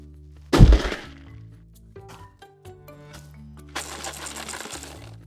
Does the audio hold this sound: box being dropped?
yes